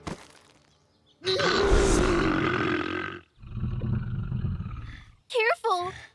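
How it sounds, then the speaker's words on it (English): A cartoon tiger lets out a long, loud growling roar, then a lower rumbling growl, followed by short yelping sounds, all in an animated children's show. "Careful! That tiger's Kitty!"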